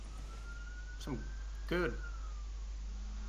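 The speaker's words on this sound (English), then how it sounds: "Is there a police siren at your place?" A faint police siren wails in the background at a StarCraft II tournament commentator's home, its tone sweeping slowly while commentators speak over it.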